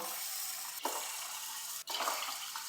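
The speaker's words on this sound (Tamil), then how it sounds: "பாருங்கள் நான் வந்து நாலு கப்பு தண்ணி சேர்த்துருக்கேன்" Water being poured and splashing steadily into a pot while making sakkarai pongal (sweet rice), with two brief breaks in the continuous flow.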